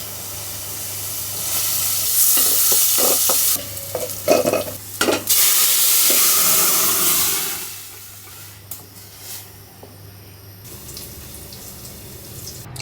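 Dry chilies, cumin and onion frying in a little oil, with loud sizzling, bursts of stirring and scraping, and a running-water stretch before the sizzle settles to a quieter crackle.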